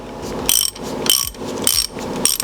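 A ratchet wrench tightens a plug in the rear of the oil drain on an RB26 engine head during assembly, clicking in four quick rhythmic bursts, loud and close.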